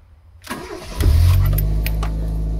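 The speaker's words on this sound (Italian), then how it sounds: "andiamo a far partire la macchina" A car engine cranks briefly and catches, then settles into a loud, steady low idle, heard up close with no talking.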